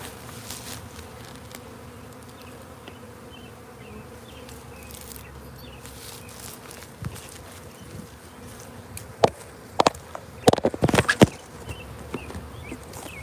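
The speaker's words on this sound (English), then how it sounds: "the bees march in" Bees buzz steadily throughout, with several louder close passes and flickering bursts near the end.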